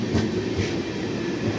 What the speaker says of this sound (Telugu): అది అహ్మదాబాద్ సైడ్ నుంచి వచ్చేసింది, మనల్ని ఓవర్టేక్ చేస్తుంది అనమాట ఈ ట్రైన్.